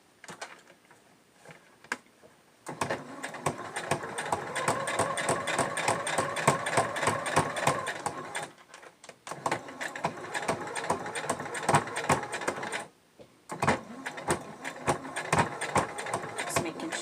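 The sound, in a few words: sewing machine stitching Olson mask fabric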